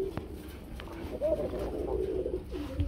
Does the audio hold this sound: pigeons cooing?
yes